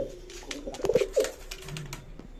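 Teddy pigeons coo nearby in a short burst of soft, throaty warbles in the middle of a quiet moment, with light background rustling.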